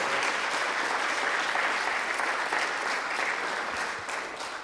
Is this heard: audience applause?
yes